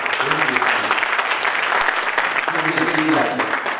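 A lecture audience breaks into loud, sustained applause, a thick wash of clapping hands that continues throughout with voices faintly mixed underneath.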